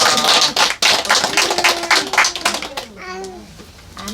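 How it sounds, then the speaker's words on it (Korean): A church congregation at a Korean worship service claps together in a quick, dense patter for a few seconds, then fades as a person begins talking. "하나님께 영광의 박수 드리겠습니다."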